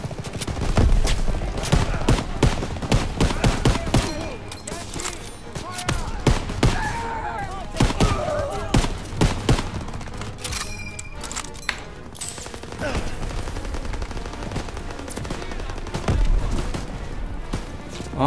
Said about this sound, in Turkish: silah sesleri çok iyi yapmışlar onu